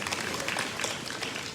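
Commencement audience clapping continues as a dense, even patter of many hands, moderately loud and unbroken over a short stretch.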